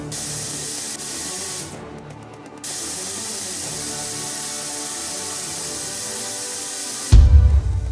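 Hair thickening fibre spray (Dexe) hisses steadily onto thinning hair in long continuous bursts, loud and close, with a brief pause before spraying resumes, then a thud at the end.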